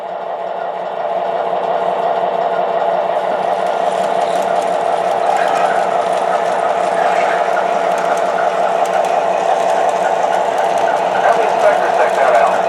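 MTH Proto 3 O gauge model diesel locomotives start up on a DCC-controlled layout, giving a steady electric motor hum and rail rumble that builds slightly and holds at a constant, fairly loud level throughout.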